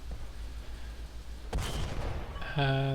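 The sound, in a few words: M4 Sherman tank gun firing, from a video game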